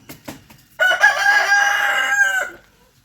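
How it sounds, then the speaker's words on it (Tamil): A rooster gives one loud, close, drawn-out crow after a few soft clucks, with no talking over it. "கோழி கத்துறா பாருங்க."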